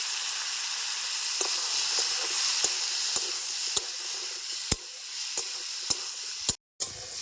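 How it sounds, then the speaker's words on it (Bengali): Vegetables seasoned with turmeric and salt sizzle steadily as they lightly fry in a pan, with a continuous bright hiss broken by sharp clicks of stirring, ending in a brief silence and then more sizzling. "সবজিগুলি হালকা ভাজা হয়ে গেছে নামিয়ে নিচ্ছি"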